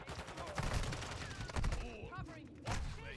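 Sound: Lockwood shotgun gunfire in Modern Warfare 2 video game

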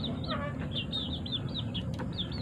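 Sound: chickens

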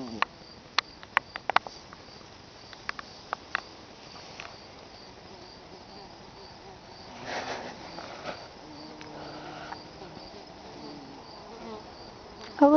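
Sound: honeybees and bumblebees buzzing

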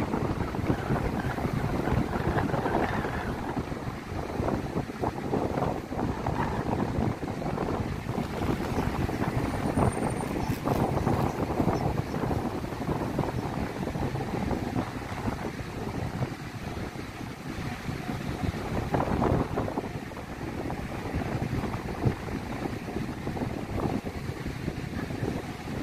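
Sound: strong wind at the beach

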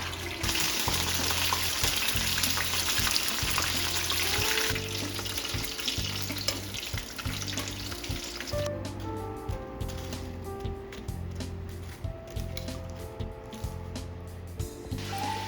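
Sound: shiitake mushrooms frying in a pan

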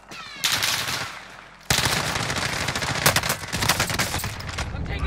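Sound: gunfire in video game Call of Duty Warzone

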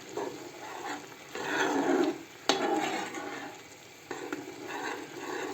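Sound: stirring boiling mushrooms in a pot

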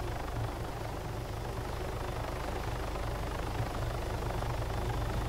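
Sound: helicopter in the video game Arma 3 Altis Life

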